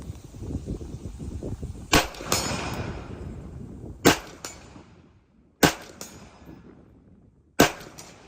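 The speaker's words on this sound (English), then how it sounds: "We're going to try 5 rounds just to see what we get with this Russian-made ammunition." A Sig Spear LT rifle with a 16-inch barrel fires Russian-made Wolf 7.62x39 steel-cased ammunition in four sharp, loud, evenly spaced shots, each with a short ringing tail, against quiet rustling background noise.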